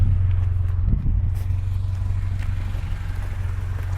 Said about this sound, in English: can kind of hear the exhaust a little bit